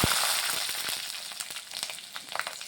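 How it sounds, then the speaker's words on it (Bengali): Green chillies, whole cumin seeds and bay leaves fry in hot oil with a steady bright sizzle, dotted with small crackles and pops, close and continuous. "লঙ্কাটা একটু ভেজে নিচ্ছি।"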